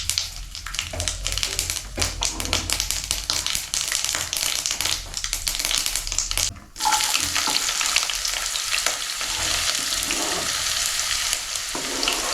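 Mustard seeds crackle and splutter in a hot pan for a fish curry, a dense continuous sizzle with rapid popping ticks, loud and close throughout with a momentary dip partway.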